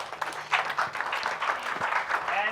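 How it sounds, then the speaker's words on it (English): A crowd applauds steadily, with dense clapping throughout and a few voices mixed in. "So please give a round of applause to Paul."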